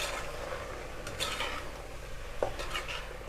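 Vegetables for a vegetable biryani being sautéed in a pan, with a steady sizzle and a few scraping stirs of a utensil against the pot, close and continuous with no talking.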